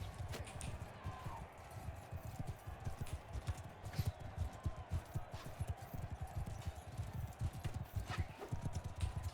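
Rapid, rhythmic hoofbeats of a galloping horse in Mount & Blade II: Bannerlord, steady and fairly close, with a faint whinny and some background game sounds.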